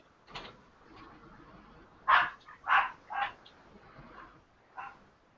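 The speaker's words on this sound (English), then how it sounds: "the dogs are barking at something" Several dogs bark in short bursts at something outside, three loud close barks in quick succession mid-clip with fainter yaps before and after, no talking over them.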